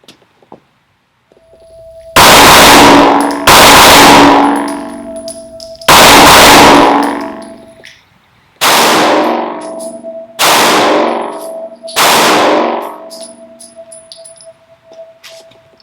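Springfield Hellcat 9mm subcompact pistol fires six loud, sharp shots at an uneven pace outdoors, each report ringing off steel targets with a metallic clang and a short decaying tail between.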